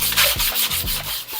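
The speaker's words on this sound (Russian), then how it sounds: "зачистим старую поверхность" Rhythmic back-and-forth sanding scrapes over the old painted surface of metal fireplace vent grilles, steady close strokes repeating about every third of a second.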